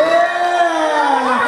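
Concert crowd at a girl group's debut show in a plaza keeps up a continuous high-pitched scream, a steady wall of shrill cheering voices without a break.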